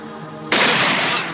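Gunfire in a TV drama: a single sudden burst of shots breaks a quiet background and stays loud and close for under a second before tailing off.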